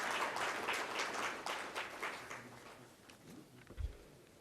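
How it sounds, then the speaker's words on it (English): Workshop audience applauding in a hall, a steady wash of clapping that tapers off over a few seconds, ending with a faint thump. "Please give a big round of applause to them."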